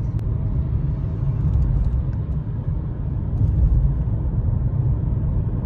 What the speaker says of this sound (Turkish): Burada tabii trafik var.